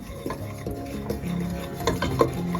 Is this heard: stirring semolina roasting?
yes